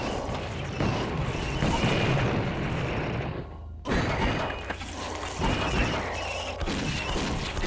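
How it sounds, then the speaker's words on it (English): A napalm cannon fired in a blood-mod shooter game gives heavy rumbling, crashing bursts with mechanical clanking, broken by one abrupt silent gap before the roaring fire resumes. "Oh, I have a napalm cannon."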